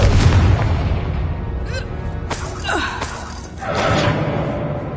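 A Confringo fire spell detonates in a Harry Potter video game, a heavy booming blast with crackling debris, followed by shorter whooshing bursts and another rumbling impact near the end.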